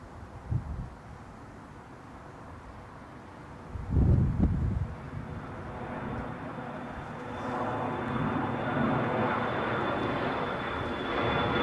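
An airliner climbs away from Newcastle International Airport, its jet engine roar building into a broad, steady rumble toward the end. Brief thumps and noises happen nearby early on.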